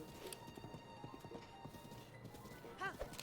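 Horse hooves clip-clopping at a run in the video game The Legend of Zelda: Breath of the Wild, a steady rhythmic beat under game music with a brief whinny near the end and some talk over it.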